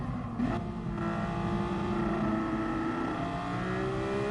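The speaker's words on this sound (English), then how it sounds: "Now the engine sounds really weird there. I don't know if you guys can hear that. It sort of stutters." A Porsche race car engine in Gran Turismo Sport runs with traction control engaged, droning steadily with a rough, stuttering, wavering tone across several seconds and no voices over it.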